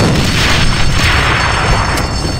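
A grenade blows up in the online shooter A.V.A, a loud, booming blast with rumbling low-end that sustains through the whole moment, with no talking over it.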